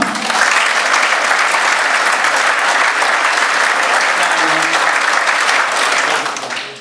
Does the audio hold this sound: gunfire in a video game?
no